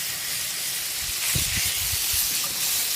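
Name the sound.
chopped pork bacon browning in a Dutch oven on Camp Chef stove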